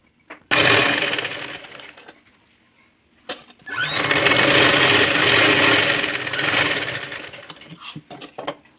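A sewing machine double stitching a dress, two bursts of fast whirring stitching separated by a short pause, with light clicks and handling noises around them.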